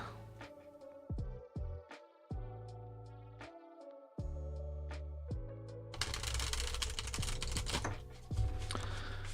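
Tarot cards, large-format deck, shuffled by hand in a run of crisp riffling slaps and flutters, near and fairly loud, ending in a denser burst of card noise.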